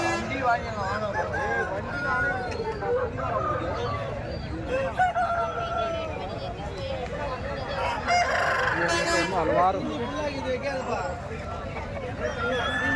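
Roosters crow repeatedly and hens cluck at a busy outdoor poultry market, several birds overlapping at close and middle distance over a steady hubbub of people talking.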